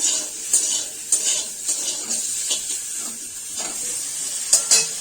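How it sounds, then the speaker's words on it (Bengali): Potatoes and vegetables are stir-fried in a pan: a soft sizzle runs beneath repeated clinks and scrapes of a utensil against the pan, close and with no voices. "এগুলো আমি এবার একটু ভালো করে কষিয়ে নেব সবজিগুলো।"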